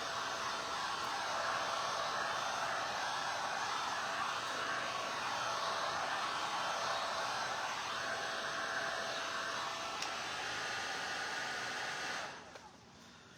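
A hair dryer blowing on wet acrylic paint on a repurposed plywood sign makes a steady, close whirring roar that holds evenly, then cuts off just before the end.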